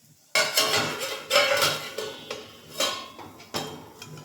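Metal pot lid set onto a cooking pot on the stove, a sharp clank followed by several lighter metallic clinks and rattles at irregular intervals, close and fairly loud with no talking.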